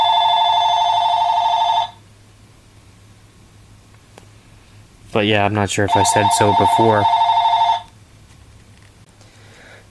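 A telephone bell rings loud and steady for about two seconds, then after a pause someone talks over a second long ring before it stops.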